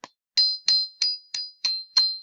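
Metal bars ring out one after another, seven bright struck tones with a hard attack and short shimmering decay, evenly spaced.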